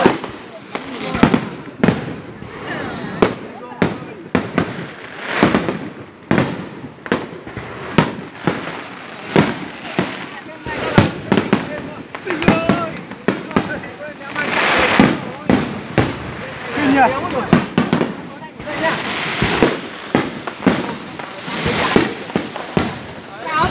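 Fireworks and firecrackers bursting at a fireworks festival, repeated loud cracks and pops coming in irregular bursts throughout, with crowd noise and voices underneath.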